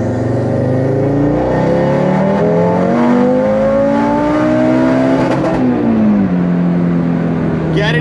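An Audi RS3/TTRS is floored at full throttle, its engine note climbing loudly and steadily through the revs, dropping briefly at a gear change and then pulling again, heard close and dominant from start to finish.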